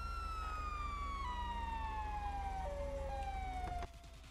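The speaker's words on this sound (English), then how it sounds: "Wait. Listen to the siren." A steady electronic siren tone from a nuclear submarine in GTA Online slowly glides downward in pitch, loud and continuous, then cuts off abruptly near the end.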